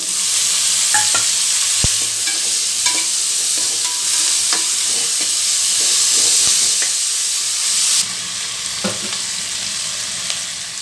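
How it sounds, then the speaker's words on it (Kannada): Fenugreek seeds and spices fry loudly in a pan for a bean saaru, with a constant close sizzle and clattering stirring taps. Near the end, tomato is added and the hiss drops slightly. "ಇದನ್ನೆಲ್ಲ ಚೆನ್ನಾಗಿ ಫ್ರೈ ಮಾಡ್ಕೋಬೇಕು ನೋಡಿ ಎಲ್ಲ ಫ್ರೈ ಆಗಿದೆ ಇವಾಗ ಟೊಮಾಟೊ ಸೇರಿಸ್ಬೇಕು"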